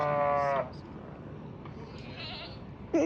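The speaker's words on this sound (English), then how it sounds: "It's a donkey." A donkey brays in short bursts, one at the start and another at the end, fairly close, with a quiet gap between.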